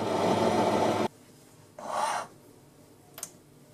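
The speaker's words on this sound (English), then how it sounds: "I thinned the material down with a parting tool before weakening it more with a hacksaw" A hacksaw cuts through steel tap stock on a lathe project, giving a short burst of harsh rasping strokes, then a pause, another single stroke, and a faint click.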